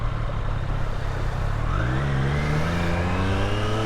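A Triumph Street Triple 765 R motorcycle's triple engine revs steadily, its pitch climbing in a smooth sweep partway through, loud and close with no talking.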